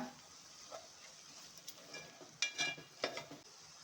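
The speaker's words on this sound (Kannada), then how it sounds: "ಚೆನ್ನಾಗಿ ಫ್ರೈ ಆಗಿದೆ ಇದೀಗ" Spices with chilli powder and turmeric frying in a pan for Muslim-style biryani, a faint, quiet sizzle with a few sharper stirring clicks and scrapes scattered through.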